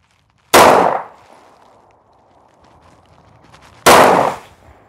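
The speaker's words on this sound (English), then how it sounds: "I want to make sure that I'm not having anybody down range, but I want to take these 2 shots" Two loud, sharp pistol gunshots ring out at a shooting range several seconds apart, one with 108-grain and one with 115-grain ammunition, each followed by a brief echoing decay.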